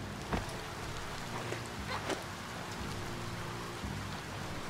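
Rain falling in the video game Biomutant, a steady faint patter with a few louder drop or splash hits scattered through.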